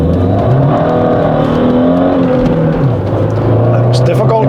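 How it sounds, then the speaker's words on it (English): A Saab 9000 2.3 Aero engine pulls hard through a 0 to 80 run on a cold day, its loud steady roar rising in pitch with a clear gear change midway, heard from inside the car. "to do a quick 0 to 80 test, which is gonna be pretty quick."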